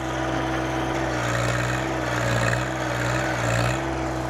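A John Deere 1025R compact tractor's engine runs steadily at raised throttle during road repair work in Honduras, a close, continuous mid-pitched drone with slight swells in revving and no speech.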